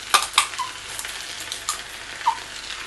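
Tuna and mayonnaise mixture being stirred in a pan for a tuna puff pastry filling, with soft scraping strokes, a few sharp utensil clicks and a low sizzle, close and fairly quiet.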